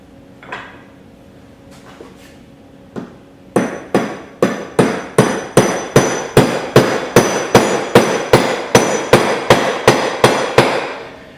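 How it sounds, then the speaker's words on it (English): Roughly twenty sharp hammer blows, a few scattered at first and then a steady rapid series, driving a pin into a CIRT impactor assembly from the countersunk end; loud, close and with no talk. "it should not take a great deal of force to drive the pin in"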